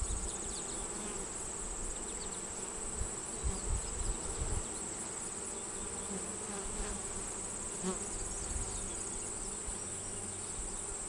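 Honey bees hum steadily around a hive being expanded from five to ten frames, a dense continuous buzz with individual bees passing close now and then, with no speech over it.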